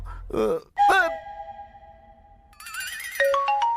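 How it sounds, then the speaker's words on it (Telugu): A phone rings with an electronic melodic tone, sustained notes then a higher stepped tune, after brief vocal sounds at the start. "ఈ ఫోన్ ఆగదు."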